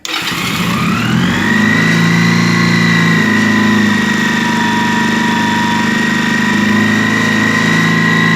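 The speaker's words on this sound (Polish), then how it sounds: "to uruchamiamy silnik" A Junak M11 125 motorcycle engine cranks and catches, rising briefly, then settles into a loud, steady idle with a constant droning hum.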